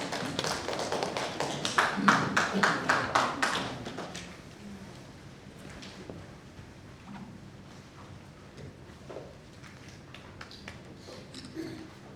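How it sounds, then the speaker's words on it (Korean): Scattered audience clapping at a book launch talk concert, a brief handful of distinct claps near the start that quickly dies out into quiet room tone with faint taps. "큰 박수로 청해 듣겠습니다"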